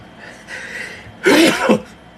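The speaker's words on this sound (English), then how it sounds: "I think I have to sneeze." A single sharp sneeze bursts out close to the microphone after a brief breathy intake, then quiet.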